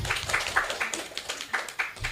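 Audience at a scout jamboree gathering applauding, a ragged run of hand claps with uneven bursts, fairly close and unaccompanied by talk.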